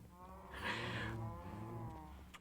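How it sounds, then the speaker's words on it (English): A single drawn-out cow moo from the Minecraft video game, low and steady with a tonal rise in the middle, heard alone at quiet volume. "I really need to turn these cows down."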